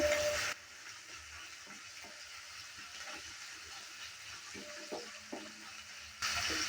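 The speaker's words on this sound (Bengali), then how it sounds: "রসুনটা আর পেঁয়াজটাকে আমি ভালো করে একটু ভেজে নেব" Garlic and onion fry in a pan, a low steady sizzle with scattered soft crackles and stirring knocks, fairly quiet and with no voices.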